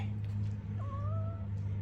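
A pet cat perched on a cubby shelf gives a single drawn-out meow, close and clear over a steady low electrical hum.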